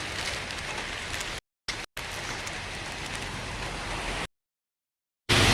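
Heavy monsoon rain pours down in a steady, hissing wash on the road between Munnar and Kochi, broken by a few abrupt silent gaps before resuming.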